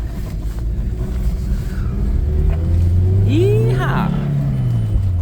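An old manual-transmission car engine revs as it pulls away, a rising throaty rumble building under the cabin noise while a person whoops near the end.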